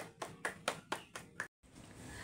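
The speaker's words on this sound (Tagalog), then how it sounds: "So, bigyan natin ng palakpak ang ating mga sarili." A group of children clap for themselves in a classroom, six sharp rhythmic claps in quick succession, close and fairly quiet, before a brief silence and soft room noise.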